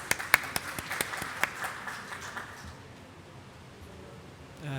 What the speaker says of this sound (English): Everybody please give John a big round of applause.